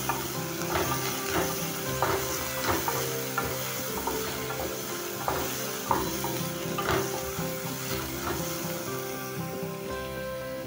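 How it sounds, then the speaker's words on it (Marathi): Crushed garlic and chopped onion sauté in a pan, sizzling steadily while a spoon stirs and scrapes in a regular rhythm, close and even throughout with no talking. "लसूण आणि कांदा परतून घेऊया"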